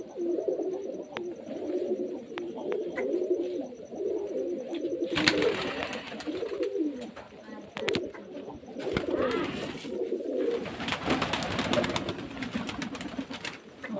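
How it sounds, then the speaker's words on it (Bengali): Desi Giribaz pigeons from Murshidabad cooing steadily in a loft at Beldanga, a soft continuous chorus of low burbling coos from many birds, with occasional sharp knocks and bursts of rustling or wing noise. "সব মুর্শিদাবাদের গিরিবাজ লাইনের পায়রা, পিওর দেশি গিরিবাজ পায়রা একদম যাকে বলছে"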